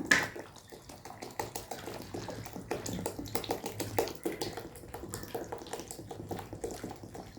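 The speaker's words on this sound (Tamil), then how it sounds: "இன்னும் ஒரு லிட்டர் தண்ணி ஊற்றிடுறேன்" Water pours steadily into a container while making homemade liquid detergent, with an uneven, splashing gurgle and a few light knocks. No one speaks.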